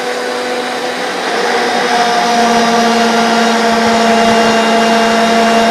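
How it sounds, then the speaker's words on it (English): A RIDGID 535M pipe threading machine runs while its reamer bites into the pipe end, a loud steady mechanical whine with a constant tonal hum that swells slightly as the tool engages, close and continuous with no talking. "I'm going to turn the machine on, I'm going to approach the pipe, and when I feel that I've reamed enough out of the pipe"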